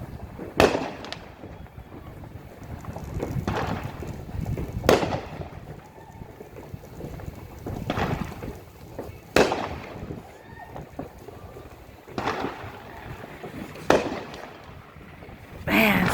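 Fireworks bursting outdoors during a massive wind storm: a series of loud booming explosions spaced a few seconds apart, each followed by crackling decay, over a constant rush of wind with some voices in between.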